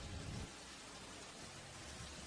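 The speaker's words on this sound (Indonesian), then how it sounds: "Hujan semakin deras." Heavy rain pours in a steady, dense hiss, with a faint low rumble at the start and end.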